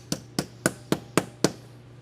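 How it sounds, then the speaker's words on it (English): A small hammer lightly strikes thin 26 gauge galvanized sheet metal six times in an even rhythm, each tap sharp and close with a short metallic ring, alone. "it's better to use a small hammer and make light strikes"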